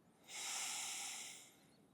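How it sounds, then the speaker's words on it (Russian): One slow, deep inhalation through the nose or mouth, an airy hiss that swells and fades over about a second, close and quiet, alone. "Глубокий вдох"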